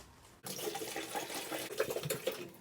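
Water gushing steadily into a washing machine being filled to wash a mattress, starting abruptly after a brief quiet moment and continuing as a close, even rushing stream.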